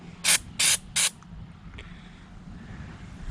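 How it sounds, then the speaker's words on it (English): Penrite diesel intake cleaner is sprayed from an aerosol can in three short, sharp hissing bursts close to the microphone, followed by a faint click and a low background hum. "Good, and now spray."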